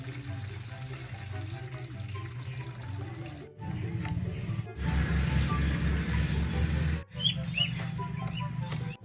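Water runs into two small buckets set up for rinsing restored GR5 titanium parts, a steady rushing splash that grows louder and fuller partway through, over a low background hum.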